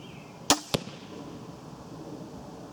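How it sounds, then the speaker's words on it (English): A Bowtech Strykezone 380 crossbow fires once: a sharp, close snap followed a quarter second later by a second crisp thwack, then quiet ambient background with no talking. "we're going to take a shot, and then you can get a good idea of the sound of the"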